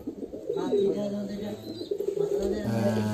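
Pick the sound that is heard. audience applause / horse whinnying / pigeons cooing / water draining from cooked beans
pigeons cooing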